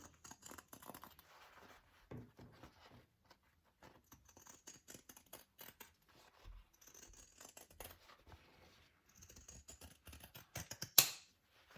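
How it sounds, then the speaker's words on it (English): Pinking shears trimming fabric curves for a circle bag: quiet, close, crunchy snips in short rhythmic bursts with brief pauses between cuts, and no talk. "I love these pinking shears for curves"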